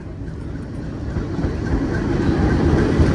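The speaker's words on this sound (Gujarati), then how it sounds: "ટ્રેન આવી ગઈ છે" A loud, steady rumble of a train arriving near Girnar, growing gradually heavier over a few seconds with no voices.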